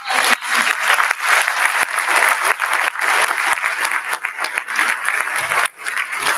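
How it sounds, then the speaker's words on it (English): An audience at a 2024 youth orchestra winter concert gives a loud, sustained round of applause: dense, continuous clapping from a full crowd, with only a brief dip near the end. "So let's give another round of applause."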